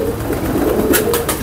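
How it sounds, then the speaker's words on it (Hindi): Golden highflyer pigeons cooing in a loft, a low steady murmur throughout with a few brief brighter rustles near the end, fairly close and moderately loud. "जेन्युइन गोल्डन कबूतर है"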